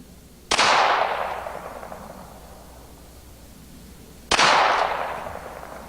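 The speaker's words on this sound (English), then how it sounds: "Let's see what we can do here with our Ruger 22. Shoot the one in the middle." Two sharp, loud Ruger .22 rifle shots fired outdoors at targets, about four seconds apart, each cracking suddenly and trailing off in a long echoing decay, with no talk.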